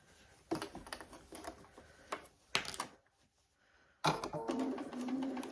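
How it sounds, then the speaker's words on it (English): A sewing machine stitches the lining of a small handmade gift in short runs, a rapid mechanical chatter that stops and starts, with quiet pauses between bursts. "let's go back to the machine and stitch these"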